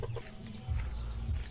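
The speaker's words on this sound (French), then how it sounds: "c'est mes poules là" Pet Pekin hens with mottled plumage cluck softly and nearby in a backyard coop, a few short low calls with steady murmuring between them and no voices.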